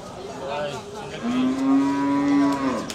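A sacrificial cow at a busy cattle market during Qurbani season gives one long, loud, close moo that swells and then fades, with a shorter low call before it and faint crowd murmur underneath.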